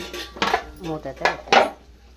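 A metal lid knocked and set on a pan while a dosa cooks, three or four close, bright clanks and rattles in quick succession, alone without talk.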